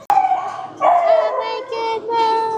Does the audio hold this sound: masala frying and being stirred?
no